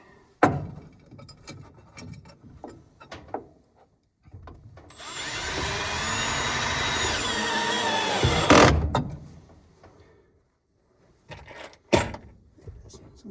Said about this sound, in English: I got the star drive bit in my drill, and I'm just gonna casually mount the box up here.